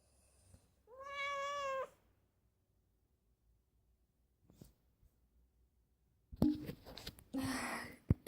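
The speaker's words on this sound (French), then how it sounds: "je vais vous montrer mon chat qui est en train de" A pet cat gives one clear, drawn-out meow, followed by quiet, a faint soft bump, then breathy snorting and rustling close to the microphone.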